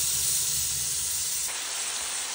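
Butter sizzles steadily in a hot pan, a bright continuous hiss that holds close and even throughout, with no voices over it.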